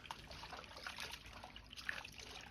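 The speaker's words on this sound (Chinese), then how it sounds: "放入一個大點的盆中，然後倒入多一些的清水" Clean water trickles and splashes steadily into a large basin holding separated Chinese cabbage stalks, a soft, continuous pouring sound with no talking.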